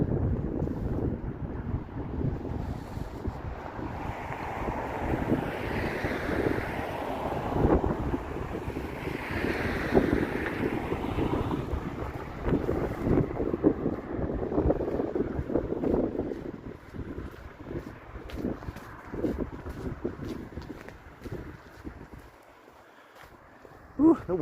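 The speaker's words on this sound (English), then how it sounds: "Ooh, the wind is quite biting." Gusty wind blows through a snow-covered city street on a winter evening, buffeting the microphone in a loud, rough roar that eases off toward the end.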